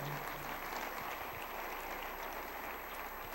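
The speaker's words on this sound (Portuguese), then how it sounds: "Pode aplaudir o Senhor" Church congregation applauding steadily throughout, a dense even wash of clapping filling the hall at moderate level with no break.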